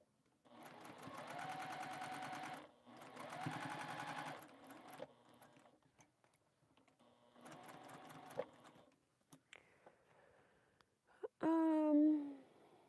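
A home sewing machine stitches quilt pieces in several steady whirring bursts of a few seconds each, separated by pauses, close and clear, followed by a brief voice at the end.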